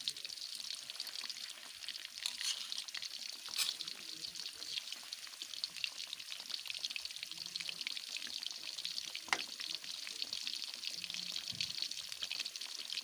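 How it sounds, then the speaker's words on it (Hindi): Chicken wings deep frying in oil give a bright, steady hiss of fine crackling bubbles, continuous and fairly faint, with an occasional sharper pop and no talk. "ये भी फ्राई हो रहा है।"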